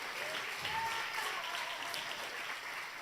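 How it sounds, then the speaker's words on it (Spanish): Church congregation claps and cheers in praise during a worship service, a sustained, fairly distant wash of applause with no gaps. "Dale un aplauso al Rey de Reyes y Señor de Señores"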